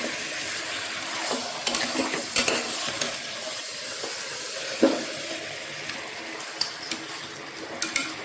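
Chicken biryani masala being stirred in a pot, giving a steady soft scraping and sizzling hiss with a few sharper clinks of the spoon against the metal, close by and with no talking.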